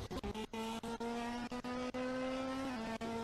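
A Ferrari Challenge race car at Imola runs off into the gravel, its engine a loud, steady droning whine punctuated by sharp crackles and clicks, with no voices.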